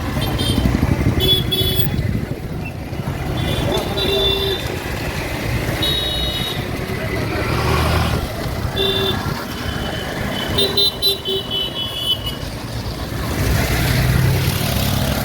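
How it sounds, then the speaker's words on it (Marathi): Street traffic through a vegetable market area: motorcycles and trucks rumble past nearby with intermittent horn toots and beeps, and a voice talks over the busy, continuous roadside noise. "हा पूर्ण पट्टा भाजी मार्केटचा आहे"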